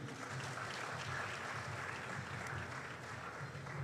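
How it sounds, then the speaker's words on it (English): An audience at a technology summit claps in a steady, dense wash of applause that holds for the whole stretch, moderately distant with no pauses. "Another round of applause for you."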